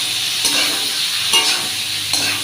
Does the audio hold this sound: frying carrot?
yes